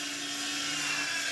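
A toy helicopter running close by, a steady high-pitched motor whine with a constant buzzing tone, loud and alone.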